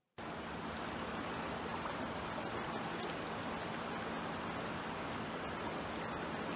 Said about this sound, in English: You can see how much the water is moving.